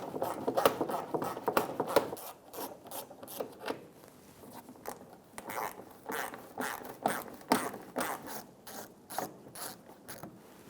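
A ratchet wrench clicks in quick repeated bursts while backing out the 5.5 mm lower screws on the side of a 2007-2017 Ford Expedition bumper, up close with short pauses between strokes.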